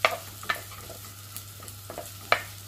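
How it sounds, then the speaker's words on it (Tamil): Onions sautéing in a pan for Sri Lankan shark fish curry: a faint, low sizzle under a steady hum, broken by a few sharp utensil taps and scrapes, close by and without speech. "இப்போ இந்த வெங்காயம் நல்லா வதங்குறதுக்கு விடலாம்"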